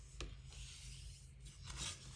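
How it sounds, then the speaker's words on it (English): Card blank folded along its score lines and burnished flat, giving faint, close paper rubbing with a couple of brief scraping strokes over a low background hum. "So just fold and burnish those score lines"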